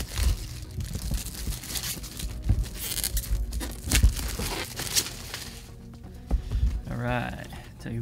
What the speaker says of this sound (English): Let's just cut this open.